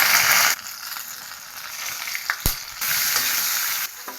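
Dried red chilies with mustard seeds hit hot oil in a Kerala-style okra tamarind curry, giving a loud, steady sizzle that dips briefly and swells again, with a sharp clink near the middle.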